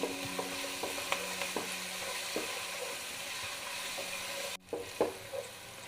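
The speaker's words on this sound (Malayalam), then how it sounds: "ഇനി നമുക്ക് നമ്മുടെ ഈ ഇൻഗ്രീഡിയൻസ് എല്ലാം പെട്ടെന്നൊന്ന് ഫ്രൈ ആയി കിട്ടുന്നതിന് വേണ്ടിയിട്ട് ഒരൽപ്പം ഉപ്പും കൂടി ചേർത്ത് കൊടുക്കാം." Vegetables for gobi manchurian sauté with salt in a pan, giving a continuous close sizzle with light utensil taps and stirring scrapes, interrupted by a brief lull before a few louder clanks near the end.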